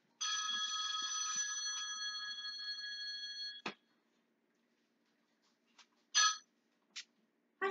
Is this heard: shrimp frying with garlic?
no